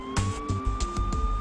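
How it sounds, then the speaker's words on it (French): A police car siren wails at night over a pulsing, rumbling vehicle engine, with a steady electronic tone throughout. "Le cri des sirènes transperce le silence nocturne."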